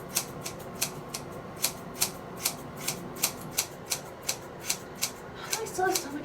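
Scissors snipping straight across hair during a home haircut, making a steady series of crisp close clicks with a brief rustle near the end.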